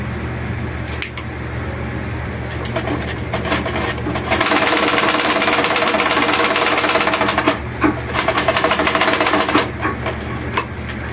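A sewing machine stitching with thin doubled thread runs in a fast, even mechanical rattle, close and loud, with brief pauses and restarts.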